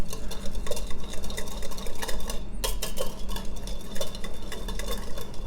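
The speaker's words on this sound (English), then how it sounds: "we'll give it a little whisk. Nice and easy whisk right here." Quick, steady clinking of a whisk against a bowl while a homemade salad dressing is mixed, a continuous close rattling rhythm with one brief pause midway.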